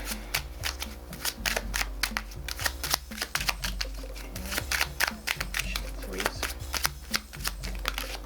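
Moon Magic oracle cards shuffle in rapid riffling bursts close up, with rhythmic thumps and soft card clicks repeating steadily over a low background hum.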